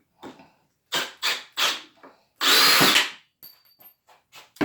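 A Milwaukee M18 brushless drill driver backs screws out in several short, loud bursts of whirring motor, then one longer sustained spin, followed by fainter clicks and brief spurts.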